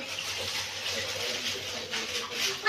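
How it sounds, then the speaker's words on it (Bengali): Lychees are washed under a running kitchen tap, a steady splashing gush of water close up, with no voices over it. "দেখো আমি কি করে লিচুগুলো ধুচ্ছি দেখো না"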